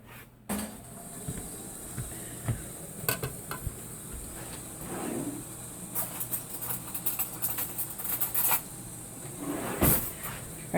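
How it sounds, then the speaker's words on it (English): A kitchen drawer is opened to take out a spoon while instant Mee Goreng ramen is being made, giving a few light clicks and clatters against a quiet room hum. "I just grabbed a spoon out of my drawer."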